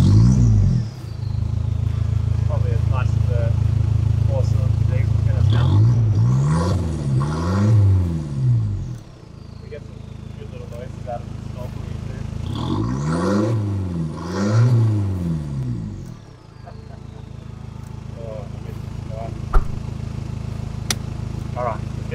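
Toyota 70 series Land Cruiser with a 4-cylinder diesel and a single resonator, no mufflers, rumbles loudly at idle, then revs up twice with rising and falling exhaust blats before settling back to a steady idle.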